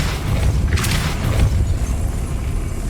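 A Depulso spell cast in the Hogwarts Legacy video game, a single whooshing burst with a muffled boom over a steady low rumble of game ambience.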